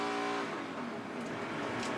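A NASCAR Cup race car roars through a 2017 Kobalt 400 qualifying lap, a steady, loud engine drone with faint tire and track noise and no voices.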